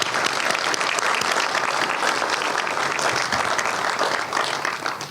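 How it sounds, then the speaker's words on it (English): A large crowd at a community center's grand opening gives a dense, sustained round of applause. The clapping stays loud and even throughout and fades a little at the end. "Let's give them a round of applause."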